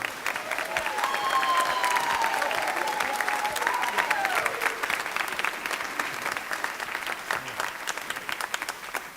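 Warm, sustained applause from a high school spring band concert audience honoring the band boosters, even and full throughout, with faint voices and whoops rising briefly over the clapping.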